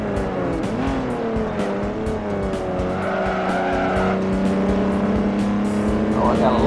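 Race car tires squealing and skidding in the Forza Motorsport racing game during an eco-car race, a sustained loud screech over steady engine drone throughout.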